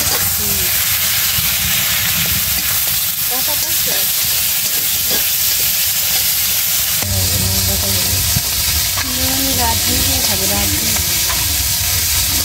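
Fish pieces fry in a pan with a steady close sizzle and hiss, with stirring and scraping on top and occasional voices in the background.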